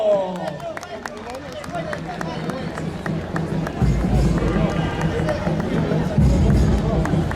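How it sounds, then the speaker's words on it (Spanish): Audience applause and crowd noise at a huaylarsh folk dance contest, lively clapping and babble building louder in the second half, with people talking and heavy thuds from dancing feet. "Los aplausos para ellos."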